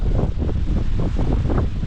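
Strong wind buffets the microphone in heavy, continuous low rumbling gusts at a pond near Poltava, Ukraine, with a wash of waves or surf mixed in.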